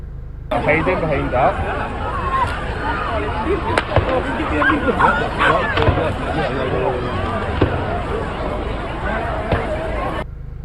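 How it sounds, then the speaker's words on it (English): Sharp gunshots ring out repeatedly over a noisy, agitated crowd at Bondi Beach, with shouting and chatter throughout and several loud bangs spaced irregularly. "You can hear multiple gunshots at Bondi Beach"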